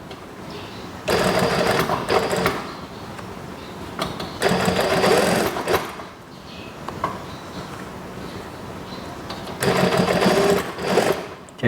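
A sewing machine stitches a shirt cuff in three steady whirring bursts of a few seconds each, loud and close, separated by quieter pauses with faint handling noises.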